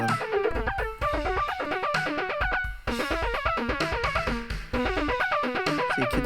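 Metal-style synthesized guitar from iPad GarageBand with layered effects, a dense driven riff of rapid repeating notes over a low chugging rhythm, loud and continuous for several seconds with no speech.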